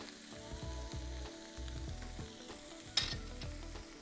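Sliced garlic sizzles in a pan as it is stirred, a low steady frying hiss with rhythmic scraping strokes and one sharp clink near the end, close and fairly quiet.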